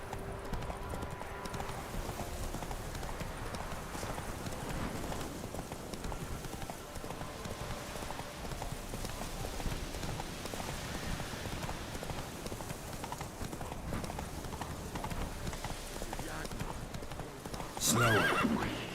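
A horse galloping in the video game The Witcher 3, rapid continuous hoofbeats drumming steadily for the whole stretch with a neigh near the end, alone without talk.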